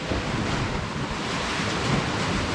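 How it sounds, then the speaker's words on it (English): Big ocean waves crash and roar against a stone arch on the coast, a loud, continuous, broadband surge mixed with wind noise, close by and without talk. "We just timed that right folks, because that's the biggest two waves we've seen."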